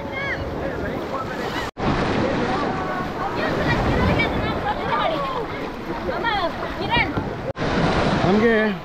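A boat ride on the Aganashini river near Honnavara brings a steady wash of water and wind buffeting the microphone, with people talking loudly over it throughout.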